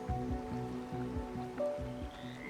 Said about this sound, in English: Sheltered, listening to the raindrops.